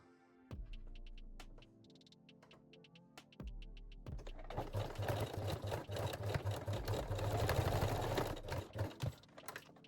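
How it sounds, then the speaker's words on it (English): Sewing machine running a small zigzag stitch to attach rings on a lace bralette, a steady close mechanical whir with rapid ticking needle strokes, starting and stopping briefly before a longer continuous run. "Now sew the rings in a place with a small zigzag stitch."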